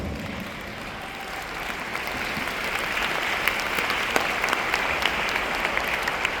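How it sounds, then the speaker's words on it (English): Audience at a leadership training seminar in Budapest, Hungary, giving a steady round of applause, dense continuous clapping at even loudness for several seconds with a few sharper claps standing out. "I think we should give Beata a big round of applause"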